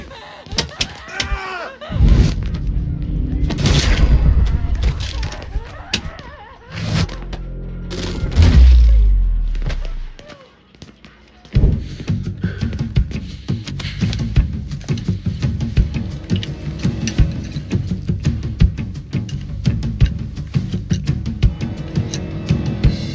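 Gunfire in the video game Mafia 3, a few heavy booming shots and slams followed by a stretch of rapid crackling fire, loud, mixed with game voices.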